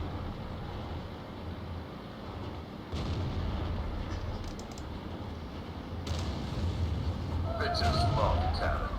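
Booming tank cannon shots in the tank game, including a T49, with sharp blasts around three and six seconds over a steady rumbling engine and bursts of clatter near the end.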